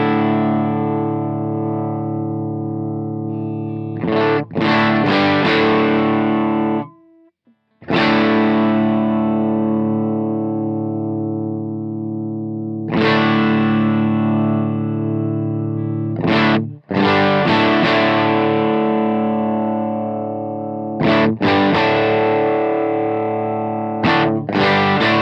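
Heavily distorted electric guitar through an amp with its bass settings being tested, loud sustained chords rung out in several long phrases with brief pauses and re-attacks, thick low end, alone without talk.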